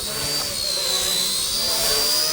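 A WLToys V931 AS350 RC helicopter performs a flip close by, its steady high-pitched electric rotor whine running loud and continuous throughout.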